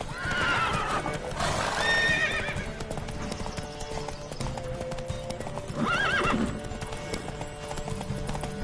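Hooves clip-clop in a fast, steady gallop in the video game Witcher 3, broken by two loud whinnies from a nearby horse.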